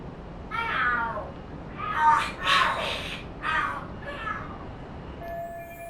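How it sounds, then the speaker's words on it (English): Cats fight and scream in the video game Lost Judgment: a run of loud, wailing yowls rising and falling in several bursts over a quiet background, with one faint tone at the end. "Are there cats fighting?"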